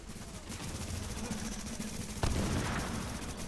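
Rapid automatic gunfire in the video game The Division, a dense continuous burst of shots that swells louder partway through, with no talking.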